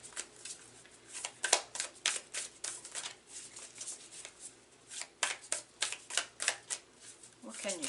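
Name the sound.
new tarot cards being shuffled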